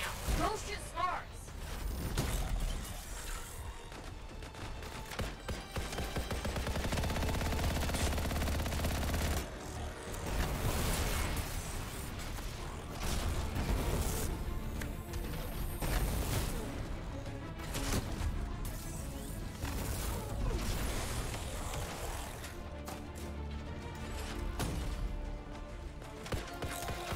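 Anthem gameplay battle with repeated bursts of automatic gunfire and heavy impacts running throughout, loud and dense, with someone talking over the action.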